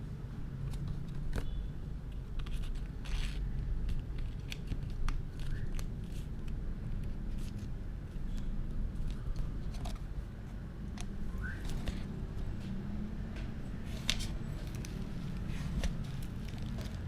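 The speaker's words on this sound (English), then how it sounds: "Use scissors if you really can't get it even inside." Scissors make soft, scattered snips while cutting paper templates for a homemade sliding gift box, quiet and close over a low steady room hum.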